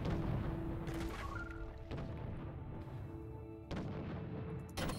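Ship cannons in Treasure Planet: Battle at Procyon fire in a rapid sequence of deep booming blasts, several shots landing over a humming game soundtrack with tonal effects.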